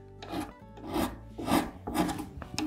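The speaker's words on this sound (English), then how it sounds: "I want to just follow the same angle that we've already got on these frets and just give it a little file," A hand file rasps across the ends of guitar frets in four or five slow, even strokes, close and crisp with short pauses between passes.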